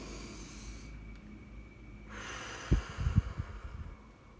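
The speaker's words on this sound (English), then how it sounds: "So this is how you take a deep breath." A deep breath is drawn in through the nose, a soft hissing inhale that cuts off, followed by a few short snorting puffs, close and quiet.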